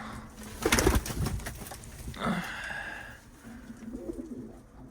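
An escaped tumbler pigeon on a roof gives soft cooing calls nearby, with a flutter and some rustling and handling noise early on.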